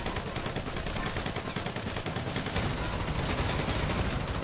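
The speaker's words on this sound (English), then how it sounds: "See if he stays alive after all these 100 shots. Yeah, I'm shooting at his head." Rapid gunfire in GTA pours out as a dense, unbroken burst of loud shots, close and continuous like a long automatic volley.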